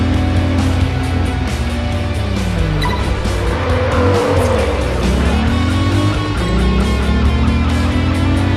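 Race cars lap a circuit in the Test Drive Unlimited 2 video game, engines droning loudly and continuously with rising and falling revs and occasional tire squeal, no voices.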